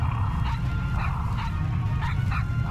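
A Puppies of the Flame pet in World of Warcraft gives repeated short yipping barks in a quick rhythm over a steady low game rumble, moderately loud with no talk.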